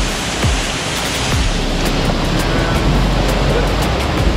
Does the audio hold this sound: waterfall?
yes